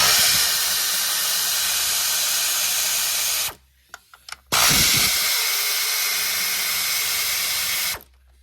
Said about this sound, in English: I know a lot of guys are using the cordless ones, the battery powered, but this is air